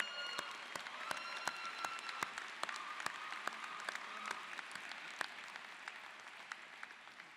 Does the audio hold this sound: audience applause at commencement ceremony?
yes